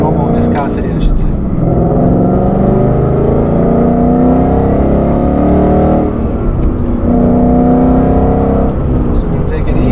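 A Ford Performance car with handling pack drives on a street, its engine a steady loud, close drone that swells and eases twice, with someone speaking over it.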